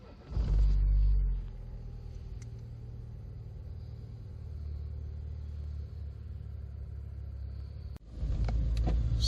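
A 1993 Vauxhall Astra Mark III 1.6i CD is driven, heard from inside as a steady low engine and road rumble. The rumble swells louder near the start, a sharp click comes near the end, and then the rumble swells again.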